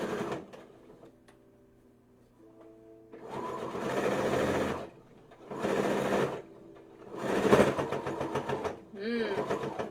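Stitching across the bottom of a spellbag, a sewing machine runs in four bursts that strain and labour as the needle passes over a double seam, with a faint background hum between runs.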